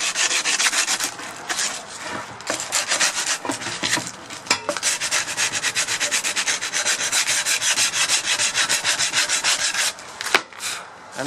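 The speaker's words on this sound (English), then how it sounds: "this part of the blade only needs filing or sanding from usually one direction." A garden tool blade is hand-filed or sanded in repeated rasping strokes, a close, steady scraping rhythm with a brief pause near the end and no talking.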